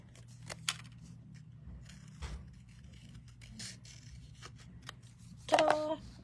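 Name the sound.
scissors cutting paper edges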